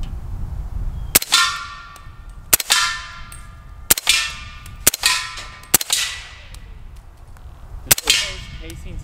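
A Leonidas Gen2 integral 300 Blackout suppressed rifle fires six sharp, loud shots at irregular intervals, each followed by a bright metallic ring from the steel target.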